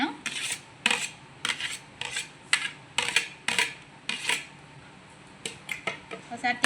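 A spoon stirs chopped onions and green chillies in a hot pan, giving a run of sharp metallic scrapes and clinks in an irregular rhythm, close and fairly loud, with a faint sizzle underneath.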